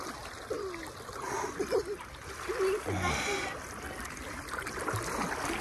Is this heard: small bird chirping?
no